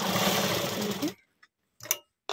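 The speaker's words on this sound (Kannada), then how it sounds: "ಈಗ ಇದೇ ರೀತಿಯಲ್ಲಿ ಲೈನಿಂಗ್ನ ಫುಲ್ಲು ಸ್ಟಿಚ್ ಮಾಡ್ಕೋಬೇಕು ಸುತ್ತ." A sewing machine stitches blouse lining in a fast, loud whirring burst lasting about a second, then stops, leaving near silence broken by a couple of short clicks and rustles.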